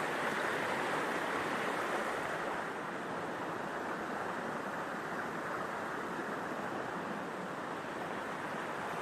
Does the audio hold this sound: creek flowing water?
yes